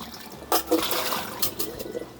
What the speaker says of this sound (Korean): 이렇게 해서 이제 물 받아서 한번 헹궈줘야 됩니다